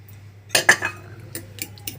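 A spoon clinks against a bowl while potato omelet ingredients such as turmeric, chili, ginger-garlic, capsicum, tomato and green coriander are mixed, giving a quick cluster of close metallic taps followed by a few lighter clinks.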